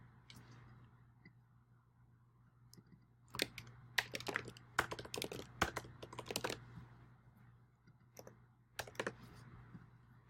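Computer keyboard being clicked and typed on with backspace presses, quiet close taps in irregular bursts with a dense flurry in the middle and scattered clicks around it, over a faint low hum.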